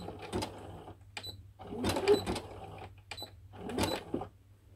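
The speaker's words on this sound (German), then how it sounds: "Und dann nähe ich einfach drauf los." Home sewing machine stitching a plaid blanket into a cape, running in short whirring bursts with brief pauses between them, close and moderately loud over a low steady hum, no talking.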